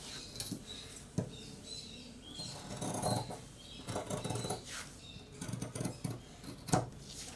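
Scissors snip through fabric while cutting pieces for a child's body frock, a run of crisp, uneven cuts with short pauses, close and fairly quiet, no talking.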